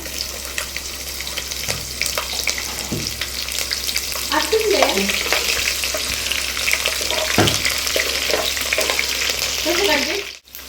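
Green chillies and tempering seeds fry in hot oil for a chapati curry, a loud continuous sizzle and crackle with scraping stirs and a few sharp pops, heard close and without talk.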